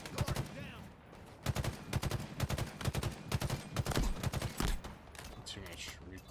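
Gunfire in a Halo match: rapid bursts of automatic shots in quick clusters, fairly loud and close, with short gaps between volleys and players talking over parts of it.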